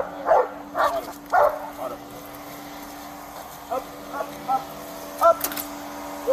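Dog barking beside a truck outside a police department, several short yelping barks in quick bursts, then sparser single barks, with a steady low hum underneath.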